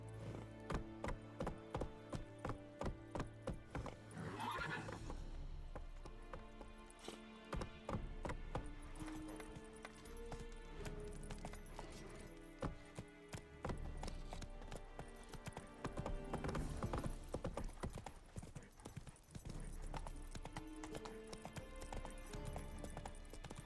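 Hooves of Roach, a horse in The Witcher III, clip-clopping at a steady galloping rhythm over a long stretch, close and clear, layered with game music and ambient sound.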